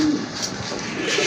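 Pigeons coo softly and close by in a bird seller's loft, a brief low purring call under faint room noise.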